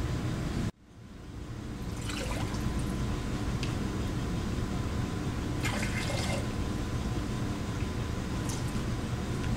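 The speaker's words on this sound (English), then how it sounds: "we will put sodium carbonate and some universal indicator into the beaker" Sodium carbonate and universal indicator being poured into a laboratory beaker, heard as a steady, continuous watery rush after an abrupt start, with no talking.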